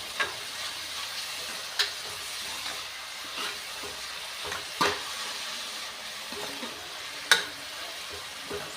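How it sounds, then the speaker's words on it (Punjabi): Chopped spinach with spices cooks in a pan, a soft steady sizzle broken by occasional sharp scrapes and clicks of a utensil stirring, close and fairly quiet. "ਚੰਗੀ ਤਰ੍ਹਾਂ ਪਾਲਕ ਨੂੰ ਉਹਦੀ ਸਾਰੇ ਮਸਾਲੇ ਦੇ ਵਿੱਚ ਚੰਗੀ ਤਰ੍ਹਾਂ ਮਿਕਸ ਕਰ ਦਾਂਗੇ"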